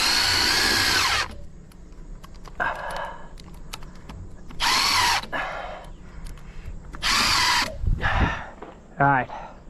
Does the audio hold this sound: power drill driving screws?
yes